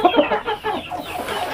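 A brooding hen, recently recovered from a respiratory illness, clucks and grumbles in a close, low stream of throaty bursts, alone without speech.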